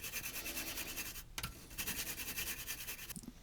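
Rapid bristly scrubbing and scratching as a toothbrush cleans the switch contacts of a Soundtracs Jade mixing console, close up, in quick back-and-forth strokes with a brief pause partway through.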